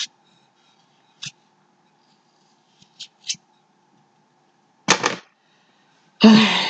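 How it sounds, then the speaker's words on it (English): A knife cuts around the edge of an aloe vera leaf in a handful of short, separate crisp snips and scrapes, close and isolated against near silence, ending with a longer rasping cut. "So just cut and cut and cut and cut and cut and cut. Cut the perimeter."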